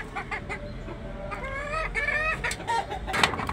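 A hen clucks in a series of close, rhythmic calls, rising into longer drawn-out notes, with scattered farmyard bustle and background noise around it.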